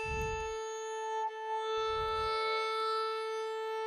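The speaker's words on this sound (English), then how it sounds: "E at 440 Hertz sounds like this." A steady, pure electronic 440 Hz tuning reference tone holds continuously, with a couple of brief low thumps beneath it at the start and middle.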